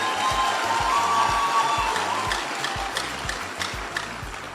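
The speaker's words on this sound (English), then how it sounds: "Clap for yourselves." Audience at a gathering clapping for themselves, a dense patter of applause that starts loud and gradually thins out, with a rhythmic ticking beat running underneath.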